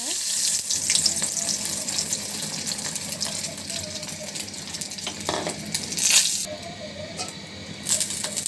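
An egg frying in hot oil in a village-style kitchen gives a steady close sizzle with soft crackles and a few louder spatters, running continuously throughout.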